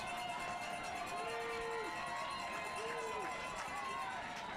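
Crowd at a San Clemente versus Murrieta Valley high school football game, a steady, distant roar of many voices that swells a little without any sharp peaks.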